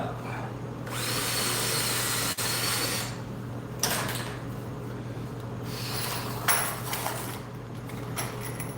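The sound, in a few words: power drill drilling out bench press safety blocks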